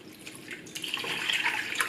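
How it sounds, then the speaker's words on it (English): Three cups of water pour into a bowl of rice flour for a Khmer coconut cake, a close, steady splashing stream that builds and brightens, with no talk. "3 cups of water also in there."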